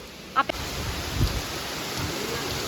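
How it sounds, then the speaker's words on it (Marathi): Heavy rain pouring down outdoors, a continuous broadband hiss with a couple of brief knocks near the start and faint voices mixed into the steady downpour. "इतका जोरदार पाऊस चालू झालाय"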